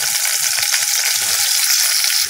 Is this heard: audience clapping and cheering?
no